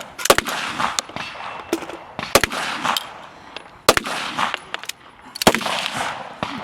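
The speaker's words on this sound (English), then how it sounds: "So 10 shots through the wooden box." Pistol shots ring out on a practical shooting competition stage, fired at a wooden box in sharp clustered bursts of several rapid reports, each group separated by short pauses, loud and close against a faint outdoor background.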